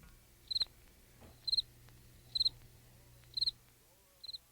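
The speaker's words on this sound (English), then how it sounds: "The chirp of a cricket." A cricket chirps in five evenly spaced short trills about once a second, crisp and close against a quiet background.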